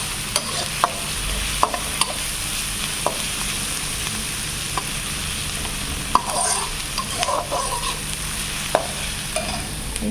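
Onion, ginger and garlic sizzle steadily in hot oil in a pan, with a spatula scraping and clicking against the pan every second or so, close and fairly loud with no talking.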